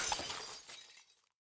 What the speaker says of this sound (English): I didn't expect that to make a glass shattering sound when it broke, but cool.